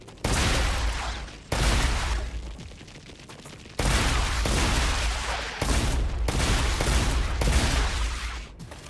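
Rapid bursts of shotgun fire at bugs in the game StarRupture, loud blasts in several clusters separated by short pauses.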